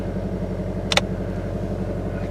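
Scion xD engine idling with a misfire, a steady low rumbling hum with an uneven pulse and a brief sharp click near the middle.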